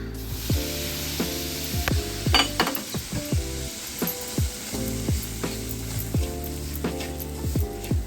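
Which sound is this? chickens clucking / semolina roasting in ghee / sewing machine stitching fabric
semolina roasting in ghee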